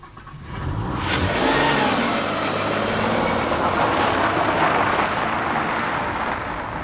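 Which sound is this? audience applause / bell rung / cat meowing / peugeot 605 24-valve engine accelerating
peugeot 605 24-valve engine accelerating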